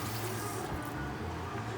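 Clean water runs and splashes steadily from a tap into a sink or bowl while tortilla dough is being made by hand, a continuous close-up rush of liquid with no pause.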